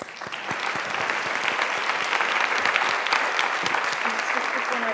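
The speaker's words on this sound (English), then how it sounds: "I got to tell you how much I love your active applause thing." Lively applause at a childhood obesity summit as a levee trail coordinator takes the stage, many crisp individual claps building into a full, steady round, with a few voices mixed in.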